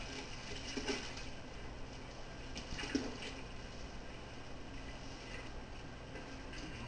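Cold water being added to a pale ale mini mash homebrew, a steady, fairly quiet splashing and running water sound lasting throughout with a few slightly louder splashes, heard alone.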